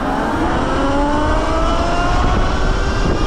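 A 2023 Sur Ron Light Bee electric motorbike rides along a road, a loud, steady rush of wind and tyre roar with a rising electric motor whine underneath.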